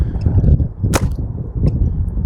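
Paintball marker fires a single sharp crack over a chronograph outdoors, with a fainter second pop after it, both heard above steady wind rumble.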